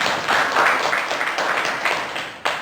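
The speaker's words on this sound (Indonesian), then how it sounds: "Tepuk tangan untuk keberhasilan." Students at a junior high school graduation and farewell ceremony applaud, a dense sustained clapping from a crowd that swells and fades before a final sharp clap.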